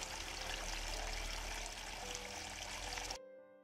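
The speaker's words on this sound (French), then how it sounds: "votre fontaine fonctionne" Water trickles and splashes steadily in a homemade wall fountain, a close, continuous wash that cuts off abruptly just before the end.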